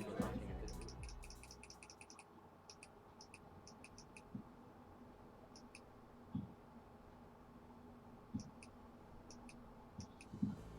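Mouse clicks while advancing through Katawa Shoujo visual novel dialogue, a series of small, faint, quick ticks in clustered bursts over a low background hum.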